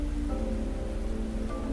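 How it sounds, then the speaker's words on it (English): Rain falls in the video game Fantasian Neo Dimension, a steady soft hiss of drops with faint musical tones underneath and no voices. "At some point, the rain began to fall once more."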